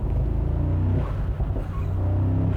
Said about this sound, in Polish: jak dodaję mu gazu, to słychać cały czas te turbiny